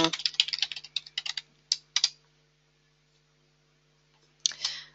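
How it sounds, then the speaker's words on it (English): Rapid keystrokes on a computer keyboard, close and crisp, clatter in quick bursts for about two seconds, pause in near silence, then resume briefly. "Now, as soon as I've just typed coding in"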